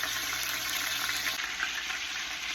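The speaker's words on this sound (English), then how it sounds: "I'm gonna brown all of them one by one in here on every side." Pieces of beef shoulder clod brown in a hot pan for birria, giving a steady, dense sizzle that holds evenly throughout, close by and without speech.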